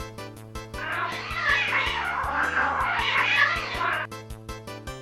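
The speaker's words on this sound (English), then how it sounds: "let's settle it with a cat fight." Cartoonish cat-fight yowling from a kart racing game, drawn-out meows and caterwauls rising and falling over a steady looping game music beat.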